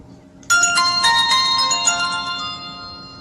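Mobile phone ringtone chiming out loud and bright, a sudden ringing melody of bell-like tones that begins abruptly and keeps ringing alone without talk.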